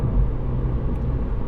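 A 2019 Mini Cooper S with a 2-litre turbo engine pulls away hard into traffic, giving a steady, loud low engine rumble from inside the cabin, with no voices.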